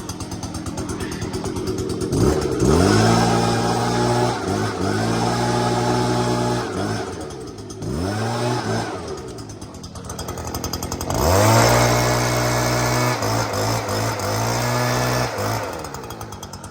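A gas-powered Stihl or Redmax leaf blower idles, then revs up sharply several times, its engine drone swelling to a loud whine and dropping back between bursts, close to the listener.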